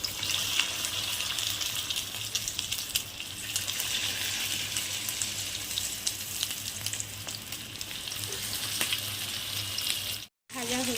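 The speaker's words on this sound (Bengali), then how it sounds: "তেলটা গরম হয়ে গেছে, এবার ভাজছি।" Cornflour-coated chili chicken pieces fry in hot oil with a steady, close, hissing sizzle throughout, faint voices underneath and a brief cut near the end.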